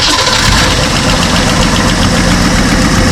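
A 1963 Ford Falcon Futura, run again after 18 years, idles loud and close with a steady, slightly rough engine drone that holds without a break.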